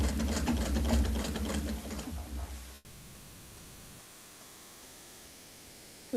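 Sewing machine stitching fabric, a fast, close mechanical whir with rapid rhythmic needle ticks for nearly three seconds, then stopping abruptly into quiet room noise.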